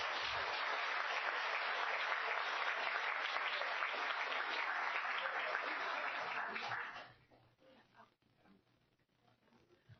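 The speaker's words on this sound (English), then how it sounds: "join me in giving them a huge round of applause" Audience applause at a school board meeting, a loud dense burst of clapping for about seven seconds that stops abruptly, leaving quiet room noise and faint voices.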